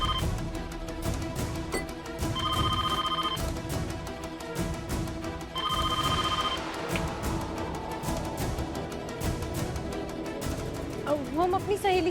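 A telephone rings twice in short trilling bursts during a Hindi TV drama scene, each ring lasting about a second, set under continuous background music and ambience.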